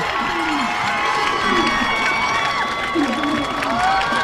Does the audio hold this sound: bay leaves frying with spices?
no